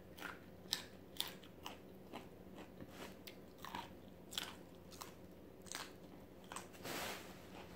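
Someone eating a Thai dish of papaya salad and stir-fried food, with crisp chewing and biting crunches repeating in an irregular rhythm, close and fairly quiet, ending in a brief louder rustling burst.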